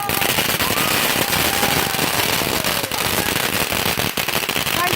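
A dense, loud, continuous barrage of fireworks crackles and bangs at a Fourth of July display, with rapid overlapping pops filling the whole stretch and no talk heard.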